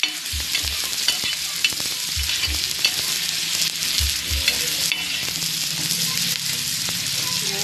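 Chopped onion is tossed into garlic on a very hot tava over lowered gas for a spiced eggplant dish. A loud, continuous sizzle is broken by rhythmic dull thumps and scrapes of stirring.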